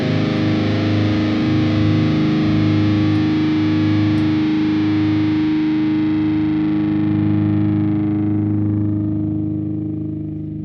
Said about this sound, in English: wait till you hear that kind of harsh noise